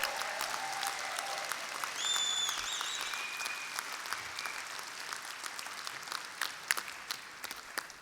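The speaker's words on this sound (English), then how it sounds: "Another big round of applause for all of them together." Applause from the audience at the TUC Congress fills a large hall and runs steadily throughout, heard fairly faintly at a distance with a few whistles over it and no speech.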